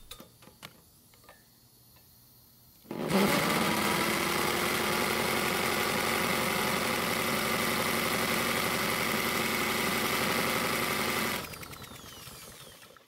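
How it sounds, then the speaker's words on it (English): A Honda lawn mower engine starts and runs on propane: a few quiet knocks, then a sudden loud, steady, close running drone for about eight seconds before it cuts out and dies down. "I'm going to try not only to run it, but also start it using propane"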